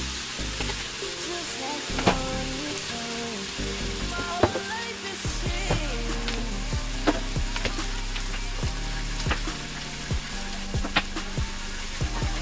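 Cilantro lime rice fries in butter in a pan as it is turned into fried rice, with a steady close sizzle, crackling pops and occasional scraping stirs throughout.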